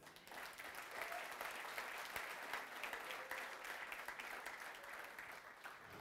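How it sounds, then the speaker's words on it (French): A church congregation applauds and acclaims the Lord, a fairly faint but continuous wash of many hands clapping that holds steady throughout, with no clear voices over it. "Donne une acclamation au Seigneur"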